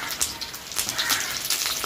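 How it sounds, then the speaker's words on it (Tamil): Garlic frying in oil in a pan, giving a steady close sizzle with light crackling and spattering throughout and no voices. "உள்ளியக்கா பொறிக்கிறக்காண்டி நாங்கள் எண்ணெய் கொஞ்சம் போடுறோம்"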